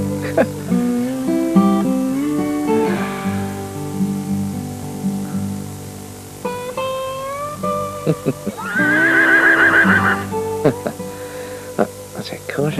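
A horse whinnies loudly in a high, shaky neigh amid tonal sounds and other horse calls, close and clear.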